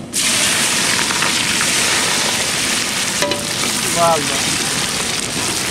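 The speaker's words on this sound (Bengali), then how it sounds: "পেঁয়াজটা আমরা হালকা ভাজবো।" Onions fry in a pot of oil for a village chicken curry with a loud, continuous close sizzle, with brief faint voices in the background.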